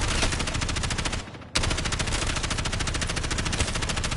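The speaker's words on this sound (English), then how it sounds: "So when I'm shooting through zombies now, right?" Rapid automatic gunfire from shooting through zombies in Call of Duty Black Ops 6 Zombies, a dense continuous burst with a brief gap near the start before firing resumes, loud and steady with no talking.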